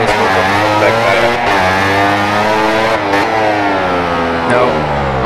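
Motorcycle engine held at full throttle in the MotoGP video game, a loud, steady high-revving whine with a couple of brief dips in pitch as throttle is released and reapplied, up close, with no talk.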